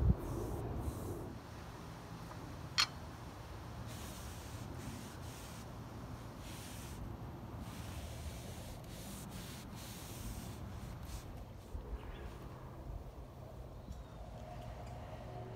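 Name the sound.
staining and varnishing wooden table planks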